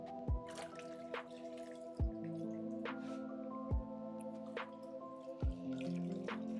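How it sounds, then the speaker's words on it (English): Glaze drips off a dipped pottery jar, falling as about five distinct drops at irregular intervals over a steady low background hum. "We're going to be glazing the jars."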